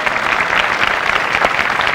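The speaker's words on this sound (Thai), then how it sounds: "ปรบมือให้กับตัวเองครับ" Studio audience on a Thai dating TV show applauding steadily, a dense continuous clapping wash that stays loud throughout without talk.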